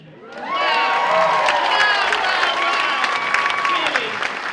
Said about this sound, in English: there are two people in this room that really need a round of applause